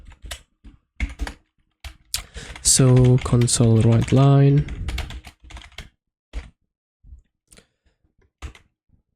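C# code being typed on a computer keyboard: scattered light keystroke clicks in uneven bursts, with a short stretch of someone speaking in the middle.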